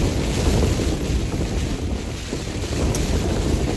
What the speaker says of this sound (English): This wind just hasn't stopped the whole time.